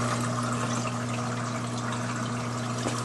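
Fresh salt water pours steadily down into an aquarium sump, a constant splashing rush over a steady pump hum, with no talk.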